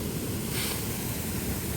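A creek swollen by heavy Oregon rain rushes past in a steady, broadband roar of water, close and continuous with no one talking.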